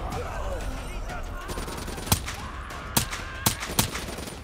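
Pistol gunfire in Call of Duty: Black Ops 3, heard as four sharp, fairly distant shots spaced over a couple of seconds above a steady bed of game ambience and music.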